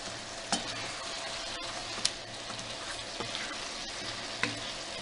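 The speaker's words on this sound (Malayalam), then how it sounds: "ചിക്കൻ ആവശ്യത്തിനുള്ള ഉപ്പ് ചേർത്ത് കൊടുക്കാം. നന്നായിട്ട് ഇളക്കി കൊടുത്തിട്ട്" Salted chicken pieces sizzle and fry in a hot pan while being stirred, a continuous crackling hiss broken by a few sharp scrapes and clicks of the spoon against the pan.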